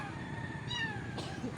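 A cat, among a group of discarded cats, gives a short meow close by over a low background hum, with a second faint call at the end.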